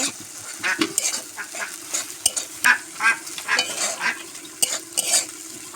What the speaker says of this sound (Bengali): মাছটা দিয়ে খুব সুন্দর মতো এবার আমি কষি নেব